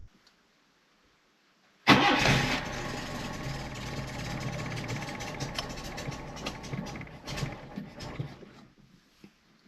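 A 1978 Honda Accord first-generation engine cranks and catches after a short silence, then settles into an uneven, rough idle, fairly loud and close, fading slightly near the end.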